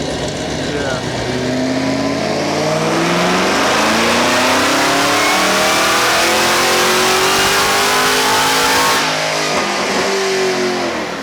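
A Chevrolet Camaro ZL1 making a dyno pull, its engine roaring loud and close as the pitch climbs steadily through the gears to a high rev before easing off, with voices talking faintly underneath.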